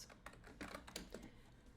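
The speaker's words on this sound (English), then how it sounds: "You guys can hear how slow my typing is." Slow typing on a computer keyboard, heard as uneven clicks and clacks of individual keys pressed one at a time, close and fairly quiet, with no voices.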